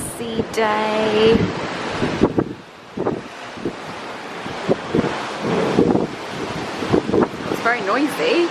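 Wind buffets the microphone over the rush of sea waves on a cruise ship crossing the Bay of Biscay, with a voice speaking briefly at the start and scattered bumps and rustles throughout.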